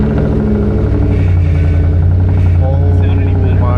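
A Lincoln drift car's engine with no mufflers rumbles loud and close, a deep throaty idle that rises into a short rev, with voices talking over it.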